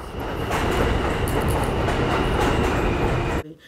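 A New York subway train rumbles steadily along the tracks with a dense roar and faint clatter, loud and close, cutting off abruptly at the end.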